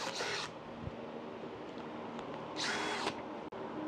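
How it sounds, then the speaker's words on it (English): A power drill fitted with a wire brush attachment whirs in two short bursts in a garage while parts for a 1965 Mustang Trans Am are cleaned, with a quieter stretch between the bursts. "let us go to our trusty handy dandy drill with a wire brush"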